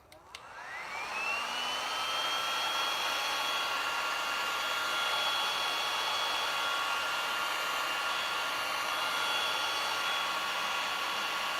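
A handheld hair dryer drying a first coat of clay paint on an apothecary box: a whoosh as it spins up, then a steady, loud airy whir held close with no talking.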